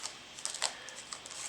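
Darkwing Blast trading cards are shuffled in a roulette-style shuffle, giving faint, quick, crisp clicks and flicks in short irregular bursts against a quiet background.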